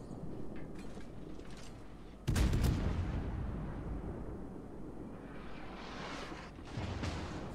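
Naval guns fire during a World of Warships battle: a sudden deep boom breaks over a low rumbling backdrop, followed later by further muffled blasts.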